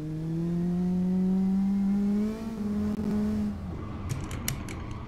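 A Mini Cooper Cup racing car in Assetto Corsa holds a steady, loud engine drone that drops in pitch partway through, then fades to a quieter hum with light clicks near the end.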